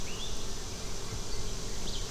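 Honeybees from an inspected beehive hum in a soft, continuous drone, with a faint higher buzz passing close by a couple of times, outdoors and without speech.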